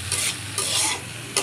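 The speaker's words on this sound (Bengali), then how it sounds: "দেখো কাটাকুটি করে আমি ভাজা তুলে দিয়েছি" Sliced vegetables such as potato, pointed gourd and bitter gourd fry in a pan with short, loud bursts of sizzling as they are stirred, heard alone up close.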